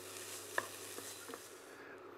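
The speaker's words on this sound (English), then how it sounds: "So we'll just fry up this capsicum, fry up the bacon a little bit more" Chopped capsicum and bacon fry in a pan at a camp grill, a faint steady sizzle with a few light clinks and stirring taps, no voices.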